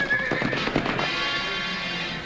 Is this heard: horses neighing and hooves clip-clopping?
yes